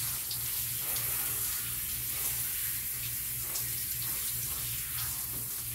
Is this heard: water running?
yes